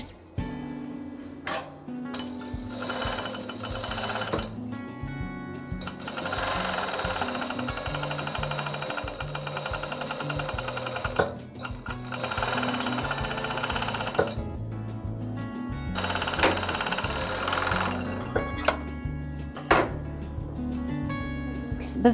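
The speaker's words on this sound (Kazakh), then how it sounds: "Енді екінші жағын беттестіріп оң бетімен қоямыз да, тор машинкада, яғни оверлокта торлап шығамыз." An overlock sewing machine serges the seams of a garment, a fast, loud mechanical chatter running in long bursts with brief pauses and clanks between them, close by.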